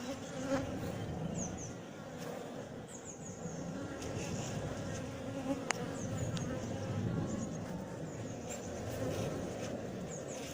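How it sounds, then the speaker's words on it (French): Honey bees buzz densely around an open queenless colony in Montgeron, a continuous close, low drone with individual bees whining past, no speech over it. "il y a trop d'abeilles pour que je cherche une reine là-dedans"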